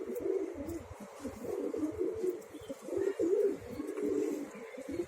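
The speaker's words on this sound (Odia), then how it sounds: "ପାରା ବି ମାଟି ଖାଉଛନ୍ତି।" Pigeons coo continuously nearby in an outdoor setting, soft, low, repeated throaty calls overlapping in an uneven rhythm with faint background ambience.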